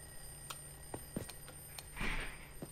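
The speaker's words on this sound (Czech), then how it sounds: "Punch the alarm, ok." An alarm clock in Minecraft rings with short bursts of ringing, fairly faint, against a thin background hum, with a louder burst of clatter near the end.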